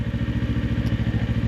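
A small, low-power motorcycle engine idles with a steady, rapid low thumping pulse, close and continuous with a faint mechanical clatter.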